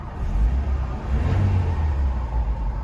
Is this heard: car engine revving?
yes